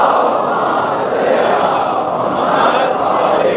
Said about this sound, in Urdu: ابھی آپ لوگوں نے ماشاءاللہ خوب نعرے وارے لگائے